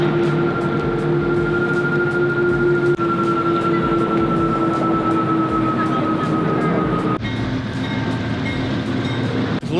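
A train rolling past near a Tesla charging station in the Midwest, loud and close, with a continuous rumbling roar, a sustained tonal whine and rhythmic wheel clicks as cars pass over rail joints.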